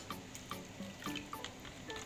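Chickpea cooking water is poured for an eggplant fatteh with yogurt, a faint trickle with small splashy drips and a gentle liquid flow in a home kitchen.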